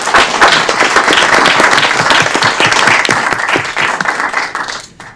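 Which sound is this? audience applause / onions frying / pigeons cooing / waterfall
audience applause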